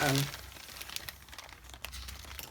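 Crinkling plastic bag, a burst of crackling at the start followed by scattered soft rustles and crinkles, fairly close.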